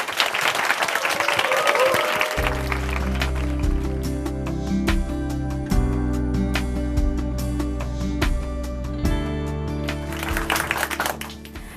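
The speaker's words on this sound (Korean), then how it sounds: "춘천 한마음교회 김새별 자매님 박수로 모시겠습니다." Audience in Chuncheon Hanmaeum Church claps to welcome a speaker; a brief burst of applause opens, then sustained music with steady tones and beats takes over, with faint clapping returning near the end.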